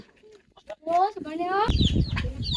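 Chickens cluck and call in short bursts close by at a fishpond, with a person talking over them and a louder rustling commotion toward the end.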